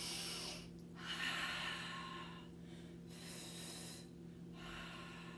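Slow, audible breaths during a mat Pilates abs exercise, with long airy exhales separated by short pauses, close and steady over a faint background hum.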